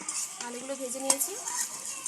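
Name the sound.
potatoes frying in oil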